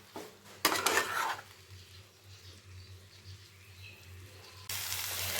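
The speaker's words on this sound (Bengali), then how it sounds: "এখন মশলাগুলোকে আমি ফুলকপি আর আলুর মধ্যে দিয়ে খুব ভালো মতন কষিয়ে নেব" Spices are sautéed with cauliflower and potatoes in a pan, soft stirring and utensil scrapes with a brief louder clatter early on and a rising sizzle toward the end, fairly quiet overall.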